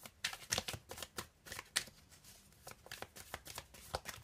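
Tarot cards are cut and shuffled in a run of crisp riffling, flicking bursts with brief gaps between them, close and clear with no talk.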